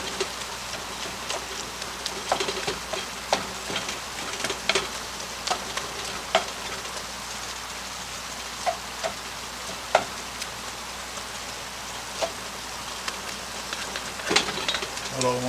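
Chilli meat browns in a cast iron Dutch oven over low heat, giving a soft continuous sizzle with scattered crackles and pops, plus occasional stirring scrapes.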